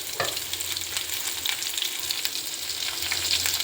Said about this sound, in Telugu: 3 టమాటాలు, కేజీకి 3 టమాటోస్, జీడిపప్పు ఒక 10 or 15, 2 పెద్ద ఉల్లిపాయలు వీటిని వేయించుకోవాలండి.